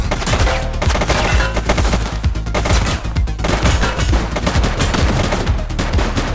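A police shootout in The Precinct video game: dense, continuous gunfire with overlapping sharp cracks and a heavy low rumble throughout, loud and chaotic with no pauses.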